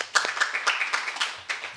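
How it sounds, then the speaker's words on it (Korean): Sparse, faint audience clapping at a panel forum on nuclear plant safety, a handful of separate claps scattered unevenly across a short moment. "다시 한번 박수 부탁드립니다."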